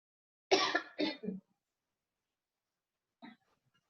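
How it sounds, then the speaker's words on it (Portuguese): Two or three close, sharp coughs in quick succession, then a single softer cough after a pause, in an otherwise quiet room. "Desculpa, gente, o áudio está aberto, estou tossindo."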